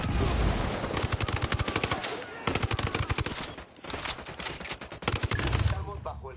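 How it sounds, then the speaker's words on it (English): Enemy gunfire in Ghost Recon Wildlands comes as rapid automatic bursts, loud and close, in rattling volleys broken by short pauses. Heavy low rumbles sit beneath the shots. "Estamos bajo el fuego de armas enemigas y no sabemos cuántos son."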